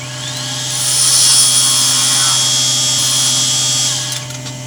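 Wood lathe hollowing out the inside of a baby rattle: a steady, loud high-pitched whine with low motor hum that holds constantly for about four seconds before easing off, with no talk.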